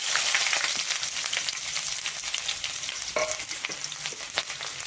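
Onions frying in a pan of hot oil with mustard seeds and curry leaves, a dense continuous sizzle with scattered crackles and a few stirring scrapes, near and steady throughout.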